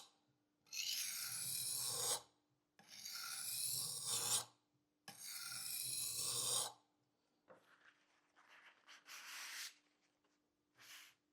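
Kitchen knife blade rasping across a whetstone in three long, steady strokes, close and fairly loud, followed by fainter, shorter scraping bits.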